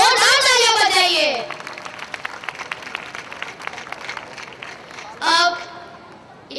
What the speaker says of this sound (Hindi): अब इतनी जोरदार तालियां बजाई दी है